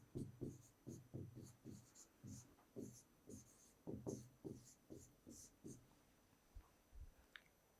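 Pen writing on a surface during a math lesson, a series of short scratchy strokes in bursts, close and fairly quiet, with a few small clicks toward the end.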